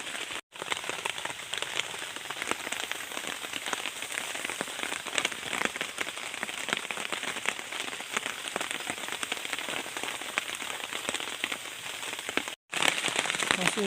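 Heavy rain falls on a forest campsite in Sumatra, a dense, steady hiss and patter of drops on surfaces, continuous and fairly close, with no talking.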